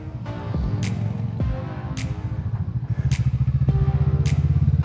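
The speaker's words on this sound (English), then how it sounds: "And I love this tuk tuk tuk tuk tuk tuk tuk, like you might hear now, that the bike does." A Kawasaki Vulcan S twin-cylinder motorcycle with an aftermarket exhaust thumps at idle and low revs, a close, loud, uneven pulsing beat that quickens slightly, with faint clicks over it.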